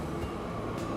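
A train rumbles steadily in Transport Fever 2 on a modded Swiss Alps map, a continuous dense rolling noise filling the whole moment without a break.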